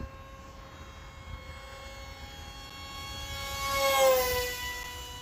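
A small Hobbyzone Aeroscout RC plane's electric motor at three-quarter throttle, a faint steady whine with a thin tonal hum that swells as the plane passes closer, then fades slightly.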